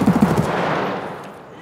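Gunfire in Escape from Tarkov: a quick close burst of several loud automatic shots at the start, trailing into fading echo.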